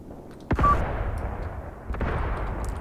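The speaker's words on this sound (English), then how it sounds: "There, my mortars are starting to fire. They are landing right now." Mortars fire in the war game Graviteam Tactics, two sharp booms about a second and a half apart over a low, continuous battlefield rumble.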